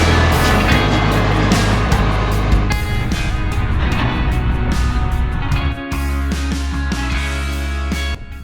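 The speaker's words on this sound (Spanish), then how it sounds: "Vaya diferencia, suelo corrugado y camiones." Trucks driving on a corrugated dirt road in Zambia, a loud continuous rumbling engine drone with steady low hum and rattling road noise throughout, no voices.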